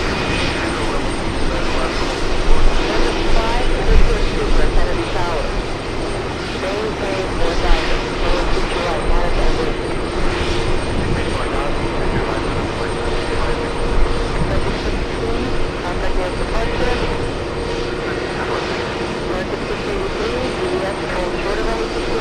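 An A380 holds second in line for takeoff at JFK while a continuous jet engine rumble and whine fill the air, with background chatter over the drone.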